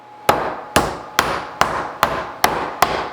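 Meat mallet pounding steak flat for chicken fried steak, seven sharp, evenly spaced whacks about half a second apart, loud and close with nothing else heard.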